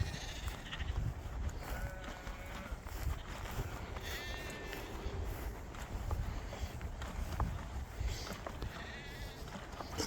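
Sheep bleat repeatedly in a field, several wavering calls spread across the clip at moderate distance over a rumbling outdoor background, with faint footsteps and no clear talk.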